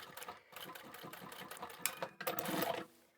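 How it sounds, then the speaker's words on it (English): A sewing machine sews over a fold of fabric from old men's ties and back stitches, giving short bursts of rapid clattering stitches with brief pauses between, close and fairly quiet, with no talking. "And I'll sew just over that fold"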